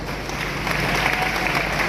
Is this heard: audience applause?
yes